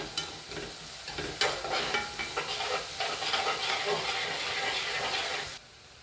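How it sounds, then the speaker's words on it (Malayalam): Small shallots frying in hot oil for chicken curry, a dense continuous sizzle with a few spoon taps and stirring scrapes, close and fairly loud, cutting off abruptly near the end. "നല്ലോണം ഫ്രൈ ആയി വരട്ടെ. ചെറിയ ഉള്ളിയാണ്."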